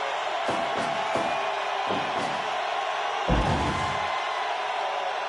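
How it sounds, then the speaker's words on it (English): Wrestling crowd at an NPW Aztec Reign event roars steadily from a distance, a dense continuous cheer with a few heavy thuds from the ring breaking through. "The crowd is really coming alive for this one."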